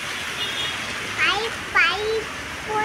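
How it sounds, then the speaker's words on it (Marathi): Steady rain falls outdoors as a constant hiss throughout, with a child and an adult talking over it. "पाऊस येतो."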